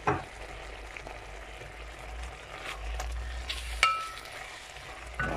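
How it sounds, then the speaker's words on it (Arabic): Onions fry in a pan for a kebab dish, giving a steady, fairly quiet sizzle with occasional clinks and scrapes of a utensil against the pan. "لازم يتقلى لكم مليح، هذاك البصل لازم يذبل"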